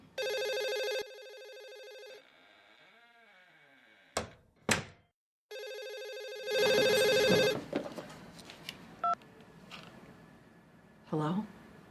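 A telephone rings in a steady electronic pattern with a few bursts, then thuds and clatter follow as the handset is picked up. Low movement noise continues in an office setting.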